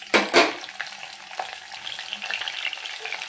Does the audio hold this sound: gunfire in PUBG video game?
no